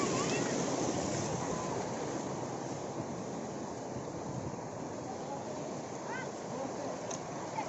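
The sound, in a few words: river water flowing over rocks near Mingmang waterfall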